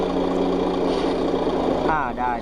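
A radio-controlled model Ford 6610 tractor runs with a steady, close engine-like hum, and a brief warbling whine near the end.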